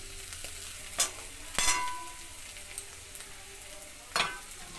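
Yardlong beans and potato sautéing with cumin, turmeric and coriander in a pan, a soft steady sizzle broken by a few sharp stirring scrapes and clacks, close and alone with no voices.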